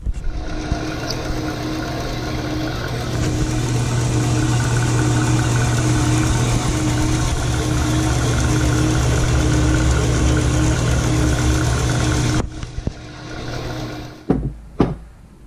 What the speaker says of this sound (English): that bandsaw cuts things crooked